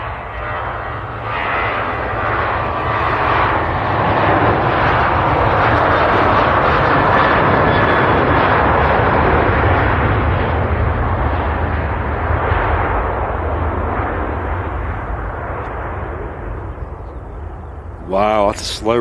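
A Jet2 Boeing 737 airliner on the runway at Manchester Airport, a loud sustained jet engine roar rising and holding with broad rumble and whine, fading slightly near the end.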